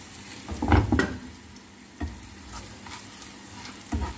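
Blue Band margarine sizzles and fries in a pan while ingredients for a Manado-style macaroni vegetable soup are sautéed, a steady hiss with a few louder stirring scrapes and clanks.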